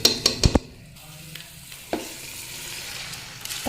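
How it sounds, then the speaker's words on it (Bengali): Vegetables with ginger-garlic paste, turmeric, salt and cumin powder sautéing in a pan for vegetable khichuri, with a few sharp spoon scrapes early on over a soft, steady sizzle. "দিয়ে মশলাগুলো সবজিগুলোর সাথে সুন্দরভাবে কষিয়ে নিব 5 থেকে 10 মিনিট"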